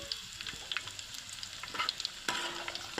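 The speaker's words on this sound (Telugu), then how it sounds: "తాలింపు మంచిగా ఫ్రై అవ్వాలండి" Garlic and chillies sizzle and crackle in hot oil for tempering, with sharp pops and light stirring scrapes, close and steady.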